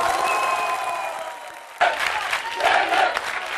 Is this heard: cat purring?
no